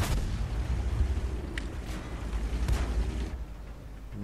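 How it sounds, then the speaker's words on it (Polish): Tank cannon shots in World of Tanks, including a Dicker Max, with a few sharp reports booming over a steady rumbling battle background at moderate loudness. "Dicker Max strzelił nie w tego, co trzeba"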